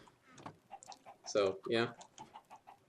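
Chickens cluck in a pen in the video game Minecraft, two loud close clucks rising over the middle of a short stretch while someone talks throughout.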